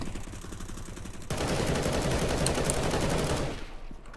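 Gunfire in the video game Counter-Strike: Global Offensive, a dense burst of loud shots lasting a couple of seconds after a quieter stretch, then tailing off.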